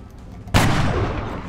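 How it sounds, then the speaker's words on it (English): A single loud, sharp blast from a Gauss long rifle in XCOM Long War, striking suddenly out of quiet and decaying into a long, booming reverberant tail. "Could take our Gauss long rifle shot."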